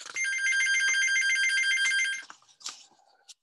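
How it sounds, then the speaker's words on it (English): A mobile phone rings loudly during a talk session, giving about two seconds of trilling electronic ringtone that then stops, followed by faint rustles. "Excuse me, that's my phone."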